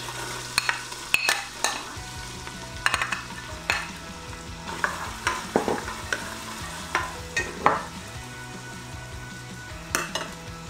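Chopped red onions and crushed garlic sauté in butter in a pan, sizzling steadily while a utensil stirs and scrapes repeatedly, with sharp clacks against the pan at irregular intervals, close up and with no talking.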